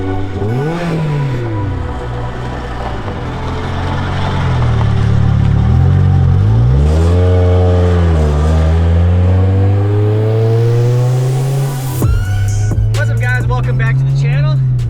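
A stock Acura RSX Type-S pulls hard, its engine roaring loud and close as revs climb, drop and climb again through the gears, finishing with a sharp burst of high-pitched revving.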